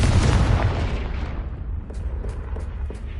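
A Confringo blasting curse explodes in Hogwarts Legacy with a loud, deep boom right at the start, then a long rumbling decay that fades over about three seconds, with a few faint ticks in the tail.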